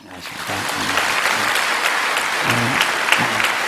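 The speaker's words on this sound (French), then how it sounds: "Applaudissons les visiteurs." Audience applause at a church gathering, a dense steady burst of clapping from a crowd that holds for several seconds while a voice speaks over it.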